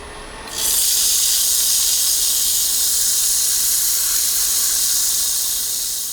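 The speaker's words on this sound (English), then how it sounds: "I'm now going to sand the outside and the inside of the cup before removing it" Olive ash cup being sanded as it spins on a wood lathe, a loud steady whooshing hiss that starts abruptly and holds evenly at close range.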